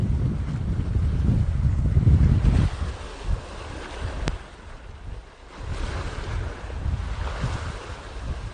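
Strong wind buffets the microphone on a seaside rock outcrop during shore lure fishing, with waves surging below; loud low rumbling gusts rise and ease throughout, no talking.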